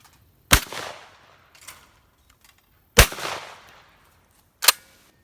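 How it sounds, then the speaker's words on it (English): Three sharp shotgun blasts ring out at a sporting clays range, spaced a couple of seconds apart, each loud and close with a short rolling echo. "Good shooting, Anthony."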